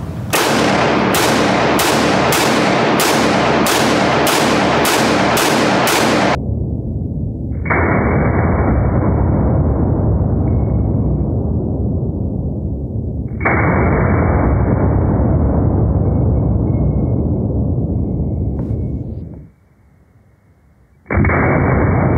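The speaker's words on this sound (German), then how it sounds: "Er ist 10 Schuss geladen und Feuer frei." An M1 Carbine rifle fires ten shots in a quick, evenly spaced string of loud, sharp cracks on a shooting range, followed by steady tonal noise.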